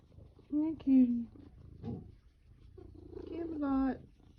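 A cat purrs close by in a low, rumbling drone that swells and fades, while someone speaks softly over it in short bursts.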